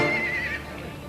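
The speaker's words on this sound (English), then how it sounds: "Stallions flaring and kicking," A Chincoteague wild pony stallion in a corral gives a single loud, close, wavering neigh that fades after about half a second.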